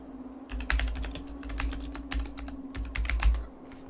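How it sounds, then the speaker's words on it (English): Rapid clicking keystrokes on a PC computer keyboard, steady bursts of typing close to the mic with a faint constant hum underneath and no talking. "I can just use my keyboard"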